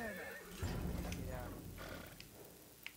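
A horse whinnies loudly over a busy Battlefield 1 Conquest mode soundscape, with a voice talking faintly underneath and brief clicks near the end.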